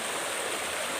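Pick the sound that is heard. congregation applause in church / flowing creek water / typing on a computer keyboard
flowing creek water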